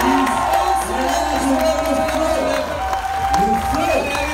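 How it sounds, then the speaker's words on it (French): A conference audience in Castelmaurou applauds and cheers at a card launch, a dense continuous roar of clapping and voices with scattered shouts. "on s'applaudit"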